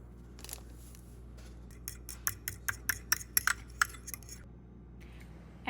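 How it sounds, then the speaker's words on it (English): Two eggs whisked together in a bowl, a run of sharp, rhythmic clicking strokes of the whisk against the bowl, fairly close and quiet, with no talking. "Start by whisking 2 eggs together and season with salt and"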